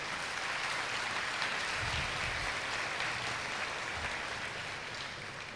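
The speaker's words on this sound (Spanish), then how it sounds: "Dale un fuerte aplauso al Rey de Reyes." Steady, dense applause from a large church congregation, continuous throughout with no pauses, loud and enveloping.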